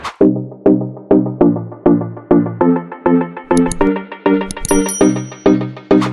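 A bright notification bell effect rings in a rapid, regular series of ringing dings, loud and close, with higher sparkly chimes layered in midway and no voices.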